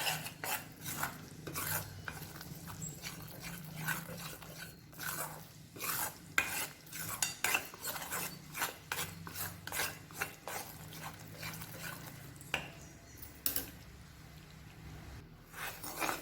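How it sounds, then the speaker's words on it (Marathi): Gram flour being stirred and roasted in a pan over low heat for besan laddu gives a steady scraping, rasping rub of the spoon against the pan, repeated in regular strokes with no talk. "छान असं गुलाबी रंगावर भाजून घ्यायचे"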